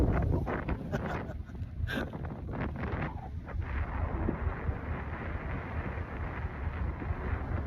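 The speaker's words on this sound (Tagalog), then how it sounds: "Mahangin." Strong sea wind buffets the microphone in continuous gusty rumbles aboard a fishing boat in bad weather, with a few faint voices early on.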